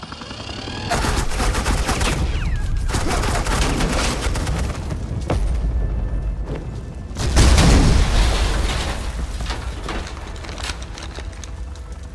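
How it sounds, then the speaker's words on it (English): Suppressing gunfire in the Batman Telltale Series video game, a loud, sustained roar of rapid automatic shots with heavy booms that barely lets up, with no talk over it. "This is Agent Quinn. Suppressing fire."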